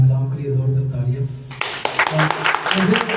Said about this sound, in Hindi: खुदा के जिंदा पाकलाम के लिए जोरदार तालियां